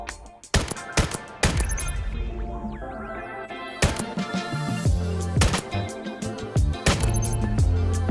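MK418 rifle fire in the VR shooter VAIL, sharp separate gunshot cracks in irregular bursts with ringing tails, loud and close, several shots spread across the span with game sounds between them.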